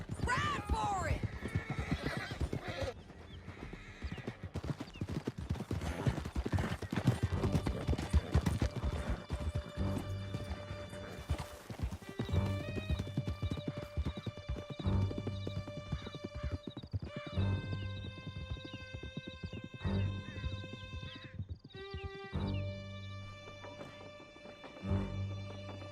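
Hooves clip-clop steadily through a Red Dead Redemption 2 horse chase, with neighs and whinnies over a dense game soundtrack. A shout of voices mixes in during a long, loud stretch.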